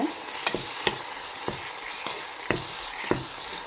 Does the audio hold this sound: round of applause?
no